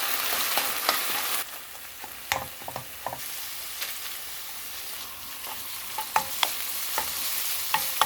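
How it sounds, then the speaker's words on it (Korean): Garlic and chili powder sizzle in a pan while being stir-fried for a soybean-curd kimchi stew, with a steady close frying hiss and scattered soft taps and scrapes of the stirring utensil. "이렇게 미리 고춧가루 넣어주면 풍미가 확 살아납니다. 마늘도 한 큰술 넣어서 볶아줄게요."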